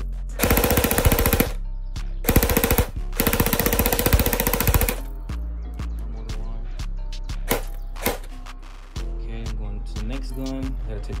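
An airsoft electric gun (AEG) fires in loud, rapid full-auto bursts with a buzzing, rattling cycle, then in shorter bursts and single shots with clicks between them, close by.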